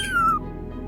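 A person imitates a cat's meow with a single brief, high, squeaky voiced cry that slides slightly downward, close and fairly quiet, then fades into a low background hum.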